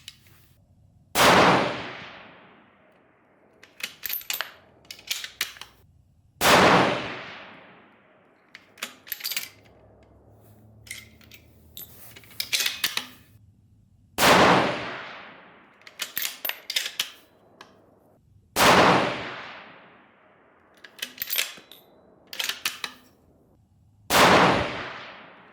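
Rifle shots from a 6mm Dasher being zeroed at an outdoor range, five loud sharp reports spaced about five seconds apart, each decaying with an echo tail, with lighter clanks and handling clicks between them.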